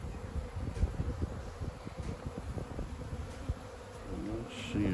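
Honeybees buzzing as new bees are added to a hive during requeening, a steady low insect hum with rustling and brief knocks throughout, fairly faint and continuous.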